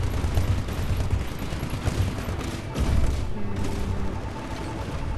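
Rockets fire at an enemy dropship in a Titanfall battle, a steady roar of blasts and gunfire with mechanical clanks and a louder burst midway, with no clear speech.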